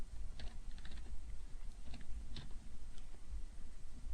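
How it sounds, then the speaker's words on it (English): Typing on a computer keyboard during a CSS coding tutorial, with quick irregular bursts of close key clicks over a low background hum, no speech. "let's type our declaration color and we'll set it equal to red"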